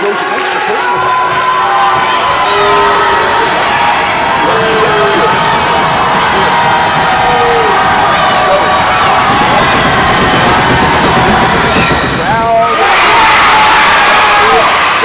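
Loud basketball crowd at a 2022 PBL Championship game cheering and shouting continuously in an arena, a dense roar with whoops that swells further near the end.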